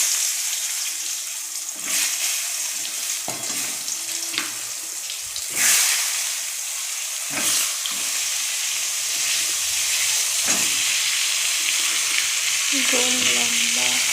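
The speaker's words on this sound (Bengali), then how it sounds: "এখন আমার এখানে পাঁপড়গুলো ভাজা হচ্ছে" Papad frying in hot oil in a home kitchen, a steady bright sizzle running throughout with occasional louder bursts and clatters of stirring, close up, with no talk.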